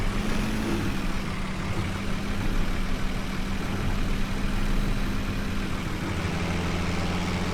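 A farm tractor engine in Farming Simulator 17 runs at a steady low drone with a constant hum, heard alone and loud while driving through a gate with a muck spreader attached.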